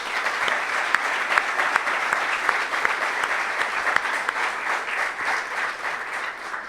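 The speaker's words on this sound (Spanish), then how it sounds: "¿Cuánto le dan un aplauso al Señor por eso?" A congregation applauding during a church sermon, sustained loud clapping from a large room with occasional sharper individual claps standing out in the steady roar.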